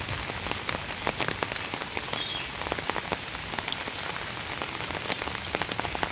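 Steady heavy rain pours onto a flooded residential street, a dense continuous hiss with sharp drops pattering close by and no voices.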